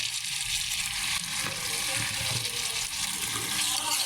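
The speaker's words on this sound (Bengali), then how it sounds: "ভালো করে এখন মাছগুলো কষিয়ে নেব" Fresh pond tilapia sizzles in a pan with pointed gourd as it is sautéed, a soft, steady frying hiss with light stirring scrapes and faint voices in the background.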